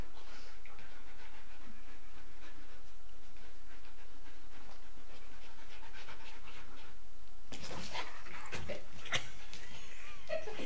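A dog pants in quick, steady breaths close by, a soft rhythmic huffing that turns louder and rougher near the end.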